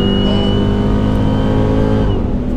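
A 935 HP Dodge Hellcat accelerating at half throttle, a loud close engine roar with rising harmonic tones that climbs steadily before easing off near the end.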